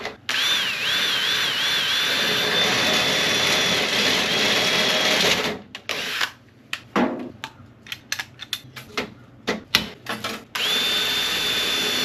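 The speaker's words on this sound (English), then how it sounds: "looks like we want to drill this" A power drill whines steadily for several seconds while drilling metal, then stutters in short bursts and clattering, before a final steady spin; close and loud.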